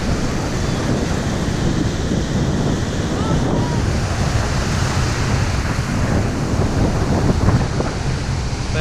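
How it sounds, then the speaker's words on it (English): Choppy ocean waves break steadily on the beach at Oak Island, North Carolina, a continuous loud wash of surf mixed with gusting wind buffeting the microphone. "Water's a little choppy today."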